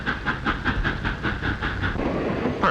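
A moving train clatters steadily in a rapid, even clickety-clack rhythm, with a faint hiss over the wheel beats. The train includes flat cars carrying goods, and no one speaks.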